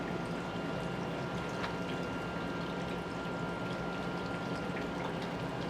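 Beer pours steadily into a bowl of beer batter for jalapeño popper burgers, a continuous close liquid splashing and trickling that runs without a break and is heard alone.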